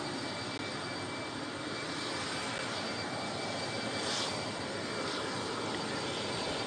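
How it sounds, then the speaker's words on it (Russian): Airplane at JFK airport in New York, a faint, steady distant engine roar with a slight swell midway, heard alone without talk. "Так, точно слышу самолет."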